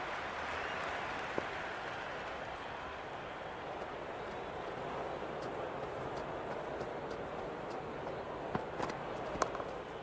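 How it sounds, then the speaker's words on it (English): Crowd applause at a cricket match in the Cricket 26 video game, a faint, broad, steady wash of clapping and murmur running continuously in the distance for ten seconds. "There is an almost tangible fervour throughout the crowd at the moment."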